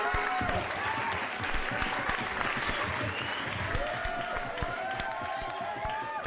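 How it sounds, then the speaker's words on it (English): Dense, steady audience applause and clapping fill the whole stretch at an even level, with faint tonal background sounds running underneath. "I don't know why we're clapping."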